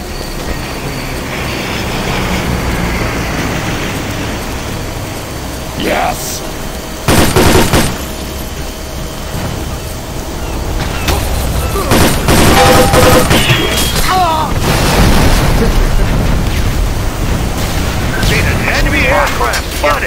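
In the online shooter Enemy Territory: Quake Wars, loud bomb blasts and bursts of gunfire erupt over a constant rumbling battle noise, with a voice talking through much of it.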